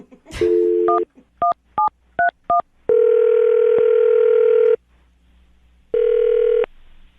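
Touch-tone telephone dialing: a short burst of quick DTMF beeps, then two long, steady dial or ringback tones separated by a pause. The tones are loud and clean, with no talking.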